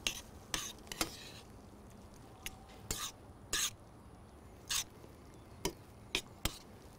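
A spoon stirs rice with shrimp and vegetables in a pot, giving sharp scattered clinks and scrapes of utensil against metal at irregular intervals, with quiet gaps in between.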